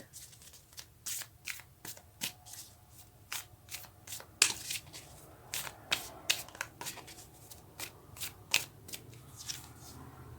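Tarot cards being shuffled, a steady run of crisp riffling and flicking bursts repeating for about ten seconds, close and fairly loud with no voices.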